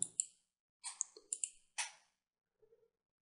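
A computer mouse clicking during router setup, heard as a few sharp, close clicks in quick pairs, then a faint soft tap at the end, in a quiet room with no talk.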